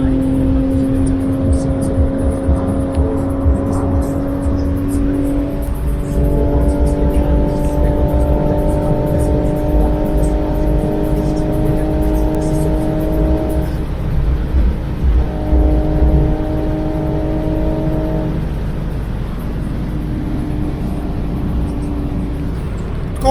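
A car accelerates hard at very high speed on a German autobahn, engine tone climbing steadily in long sustained pulls with brief gear-change dips, loud and close from inside the cabin.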